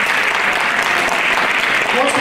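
An audience at a high school jazz concert applauds loudly in a dense, continuous wash of clapping that fills the hall, with a faint voice underneath.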